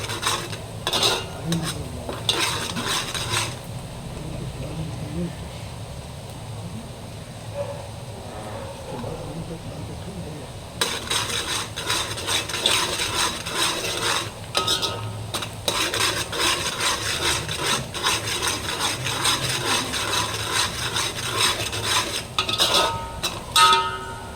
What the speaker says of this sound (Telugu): చక్కగా అయితే ఆనియన్స్ అయితే ఉడిపోయినాయి. ఒక 2 మినిట్స్ చాలు, చక్కగా ఉడిపోతాయి.